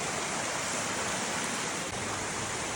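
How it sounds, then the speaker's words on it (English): Waterfall pouring inside a cave, a steady full-band roar of rushing water that holds constant and loud with no voices over it. "It's a waterfall and a cave."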